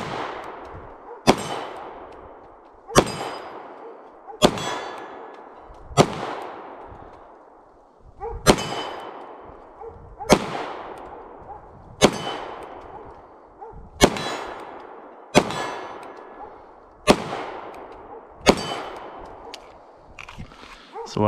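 FN 509 Tactical pistol shots striking steel targets: about a dozen sharp reports, each followed by a ringing metallic clang and a short decay, spaced roughly one and a half seconds apart at a steady pace.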